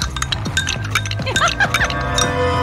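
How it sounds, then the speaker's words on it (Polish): Eggs whisked in a bowl, giving quick light clinks and tinkling taps in an uneven rapid rhythm, close up, with faint background sound. "Sekret dobrych jajek tkwi w ubijaniu."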